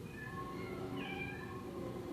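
A kitten meows continuously in a played recording, a drawn-out plaintive cry with a rising middle, heard alone over a steady background hum.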